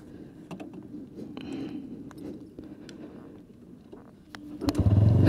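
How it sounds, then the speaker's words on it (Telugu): A 2025 TVS Raider 125 motorcycle is kick-started: scattered mechanical clicks and clunks from the kick lever, then the engine catches near the end with a sudden louder idle hum. "ఈ వెహికల్ హైలైట్ కిక్ స్టార్ట్ కాబట్టి కిక్ స్టార్ట్ చేద్దాము."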